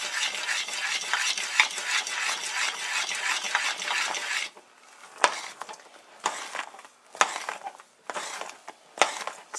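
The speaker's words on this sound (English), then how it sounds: "Now, stir, and make sure that you've used a pot that's large enough" A spoon stirs baking soda into hot molasses caramel in a large pot, with a steady scraping, bubbling rush for about four seconds, then a run of separate loud stirring strokes with short pauses between them.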